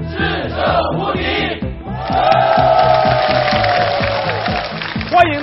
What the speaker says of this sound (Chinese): 热烈的掌声欢迎100位守关的绅士。